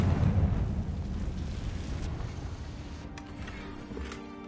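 A fire spell explosion in the Hogwarts Legacy video game, a deep rumbling blast that is loudest at the start, then fades into a long roar with a few faint crackles.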